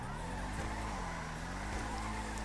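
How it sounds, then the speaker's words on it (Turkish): Dodge Charger in GTA V drifting and skidding, a steady loud engine drone with rising and falling pitch and a continuous rough tire hiss throughout, no pauses. "muazzam kayıyor bu araç"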